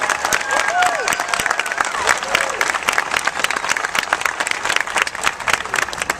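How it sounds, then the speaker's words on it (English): An audience at a Stater Brothers market grand opening in Riverside claps steadily in a dense, continuous round of applause, with scattered voices and a few whoops mixed in. "Let's give another big round of applause."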